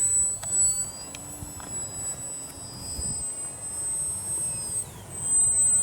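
A Durafly Micro Tundra RC model plane flies overhead on a windy day, its small electric motor giving a thin, high steady whine that shifts slightly in pitch, faint against gusty wind noise.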